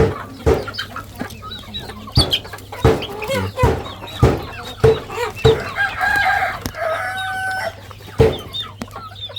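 Chickens cluck repeatedly in sharp bursts on a chicken farm, with a rooster crowing in the middle, close by over a low steady hum.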